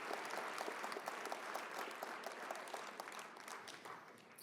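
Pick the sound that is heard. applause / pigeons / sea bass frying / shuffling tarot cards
applause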